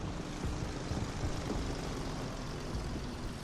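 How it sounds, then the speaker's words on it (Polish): The engine of a KW-85 heavy tank in the game War Thunder drones as a steady, fairly faint mechanical rumble with a broad roar, running continuously without speech. "Odpalamy silnik i jedziemy."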